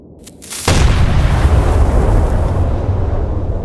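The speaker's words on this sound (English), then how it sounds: "the fire rate of the 4-inch cannons absolutely exceeds the fire rate" In a Minecraft Movecraft battle, a ship's 4-inch cannon shell slams into a tank: brief clicks, then one sudden loud boom that settles into a heavy, rumbling roar.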